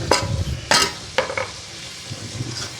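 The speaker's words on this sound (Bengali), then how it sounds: "দেওয়ার পরে এভাবে অনেকক্ষণ কড়াইয়ের উপরে নাড়াচাড়া করবেন" Shrimp and spice paste fry in a kadai with raw green banana, giving sharp stirring scrapes and clanks over a low sizzle, fading quieter toward the end.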